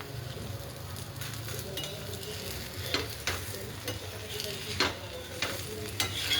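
Thalipeeth flatbread fries in oil on a pan with a soft, steady sizzle, and a few light scrapes and clicks of a spatula or utensil come through close by.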